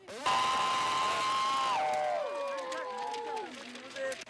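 A crowd gathered in a new school parking lot in Labrador greets the Vancouver 2010 Olympic torch relay with loud, sustained cheering and whooping, high voices rising and gliding down over steady crowd noise.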